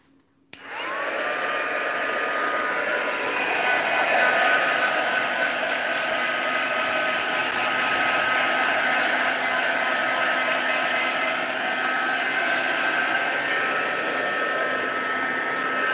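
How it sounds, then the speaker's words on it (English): A Crafter's Choice heat tool blows a steady, loud whoosh of hot air over acrylic pour paint, switching on abruptly and running continuously with a constant whine for the whole stretch. "I'm just going to hit that with a little bit of heat from the Crafter's Choice heat tool, just to dry it off a little"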